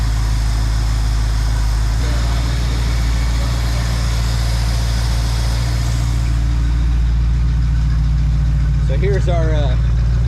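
A 1969 Ford Mustang engine that had sat for 17 years idles steadily and loudly up close, a deep continuous rumble with a slight shift partway through, while someone speaks briefly over it.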